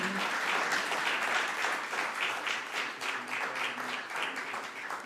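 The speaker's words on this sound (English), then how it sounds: "Please join me to give a round of applause for this historic moment." A room of attendees at a memorandum-of-understanding signing ceremony applauds steadily, dense continuous clapping holding level for several seconds with faint murmur underneath.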